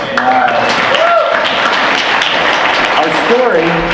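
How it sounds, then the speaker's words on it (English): Audience applause at a press conference, a dense steady wash of clapping that holds for the whole stretch, with voices talking over it. "Give him a round of applause."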